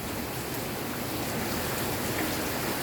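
Heavy rain falls steadily during a flood, a dense continuous hiss of water that stays even and unbroken throughout, fairly loud and close.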